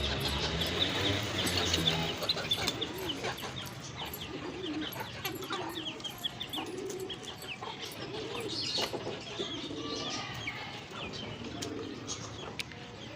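Fancy pigeons, a mix of old household birds and young chicks kept in a home loft, coo softly and repeatedly with occasional wing flutters, steady and close.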